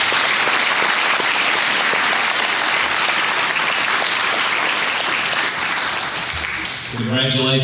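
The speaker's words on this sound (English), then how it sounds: "How about another round of applause for all of our inductees?" A hall audience applauds inductees at a hall of fame ceremony with sustained, dense clapping that tapers near the end as a voice begins speaking.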